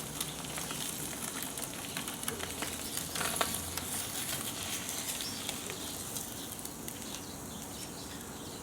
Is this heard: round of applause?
no